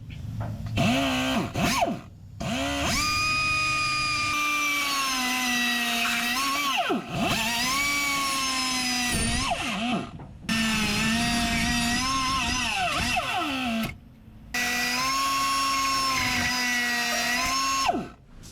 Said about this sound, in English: I had to use the air grinder to grind off the hose clamps